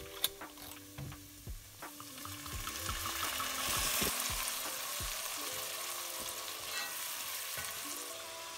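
About 150 grams of risotto rice with shallots and garlic sizzles softly in a pan, a quiet steady frying hiss with occasional stirring clinks and scrapes.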